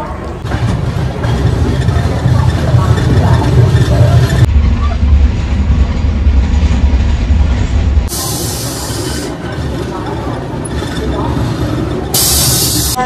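Loud, continuous rumble and rattle of the Mumbai Gitanjali Express rolling along the tracks near Bhandara Road, heard from inside a 3E AC economy coach with shifting tone and occasional hissy bursts.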